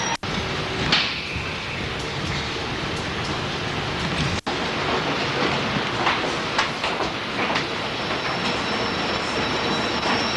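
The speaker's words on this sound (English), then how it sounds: "Here's a train that's just arrived from Watford." A train arriving from Watford rumbles and clatters at a Liverpool Street station platform in 1985, a steady loud rail roar with faint squeals and clicks throughout, no voices.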